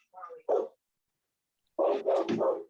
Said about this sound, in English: Dogs chasing coyotes.